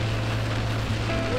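Steady rain falling during a van road trip in Austria, a constant broadband hiss with a low engine-like hum underneath, even and unbroken, with no voices.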